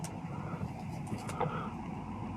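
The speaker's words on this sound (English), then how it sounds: "We got cars there. We got more cars pulling in." Cars pulling into a parking spot in a freezing winter city: a quiet, steady motor hum with tire and engine rumble and a faint passing swell, heard from nearby.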